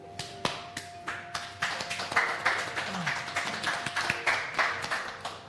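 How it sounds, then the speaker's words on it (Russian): A small group claps in a sumo-wrestling studio broadcast, starting with scattered single claps and building into steady applause, close by with no talking over it. "Это аплодисменты отчаяния"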